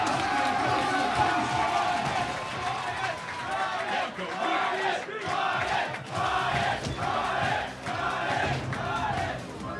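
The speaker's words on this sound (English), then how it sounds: "Hope you can hear the crowd there." A dense crowd roars and cheers continuously at a Street Fighter tournament, a 2011 Canada Cup Super Street Fighter IV Arcade Edition 5v5 match of Canada against Korea, with rhythmic chanting surges and a commentator talking over it.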